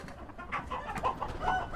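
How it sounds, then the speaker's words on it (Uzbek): Adler chickens on a poultry farm in Namangan cluck and murmur softly, a few short calls rising over a low background of other birds. "Adler tovuqlarimizdan."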